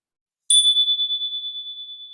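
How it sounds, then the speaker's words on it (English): A single bright strike of a small bell used to mark the second beat in a Baika lesson, a clean ping ringing out and slowly fading with a pulsing shimmer against silence. "ring the bell on the second beat."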